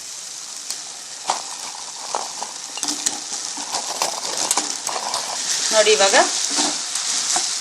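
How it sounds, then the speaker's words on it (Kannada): Cauliflower pieces sizzle steadily in hot oil while being stirred, with scraping spoon clicks and a busier rattling burst near the end, close by, as someone briefly speaks over the frying. "1 ನಿಮಿಷ ಚೆನ್ನಾಗಿ ಈ ಥರ ಫ್ರೈ ಮಾಡಬೇಕು ನೋಡಿ."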